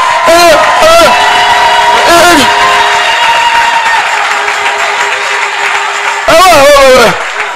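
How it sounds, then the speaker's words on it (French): Church congregation cheering and applauding for their pastor, loud crowd noise with whoops and shouts that swell in bursts at the start and again near the end. "Acclamez pour votre pasteur, acclamez."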